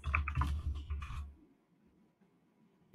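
A quick burst of typing on a computer keyboard, a rapid cluster of close key clicks lasting about a second before falling to near silence.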